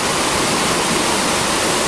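A mountain stream waterfall roars as a steady, loud, unbroken wash of rushing water close by, with no voices over it.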